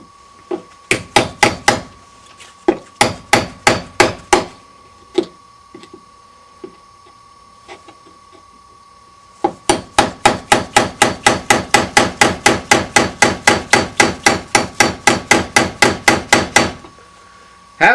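Steady hammer blows drive a chisel into a wooden door edge, cutting space so a misaligned lock bolt can seat. The blows come as loud, sharp, evenly spaced knocks, a burst of them, then a brief pause, then a longer fast run.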